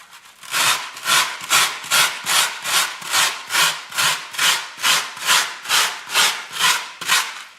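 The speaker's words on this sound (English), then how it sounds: "So really I'm just scraping until I get to the bottom of all of these holes." A hand tool scraping out holes in wood, about fifteen steady, evenly paced back-and-forth rasping strokes, close and fairly loud, with no talking.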